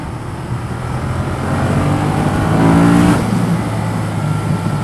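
A 2015 Ducati Monster 1200 accelerates on the road, its engine droning steadily with rising revs through a broad rush of wind and road noise, loud and continuous with no talk.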